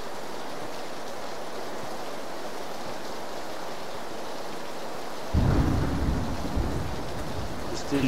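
Steady rain pours down in a PUBG match, a constant hiss that swells after five seconds into a loud, rumbling roll of thunder close by.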